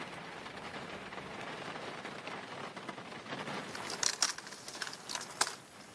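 Rain falls outdoors onto piles of discarded electronic devices, a steady, dense patter with sharper drip and tap hits on the hard surfaces growing louder toward the end.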